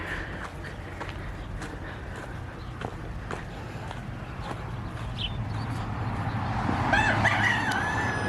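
A rooster crows loudly near the end over steady outdoor background noise, with faint footsteps and scattered clucking earlier.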